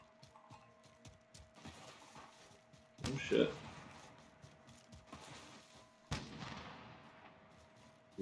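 Gunfire on Rebirth Island in Call of Duty: Modern Warfare: two distant, booming shots a few seconds apart over quiet game ambience, with a person talking faintly at points.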